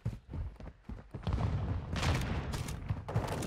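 Gunfire in a shooter video game rattles in quick bursts, sparse at first then denser and louder, with sharp transient cracks layered over a busy background.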